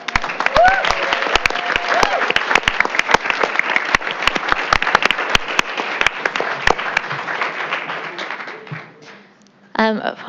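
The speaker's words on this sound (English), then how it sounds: "let's give one more round of applause" Audience applause at a school board business meeting: a lively round of many hands clapping close by, holding steady for several seconds before tapering off, followed by a brief voice.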